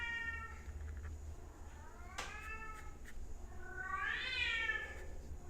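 A house cat meows several times, faint and somewhat distant, with a drawn-out rising meow near the end over a low steady background hum.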